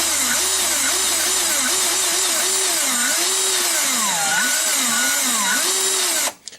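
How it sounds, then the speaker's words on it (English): A power drill whirs continuously at close range, its motor whine wavering up and down as the trigger is feathered, then cutting off abruptly at the end. "have a little too much fun with the power drill?"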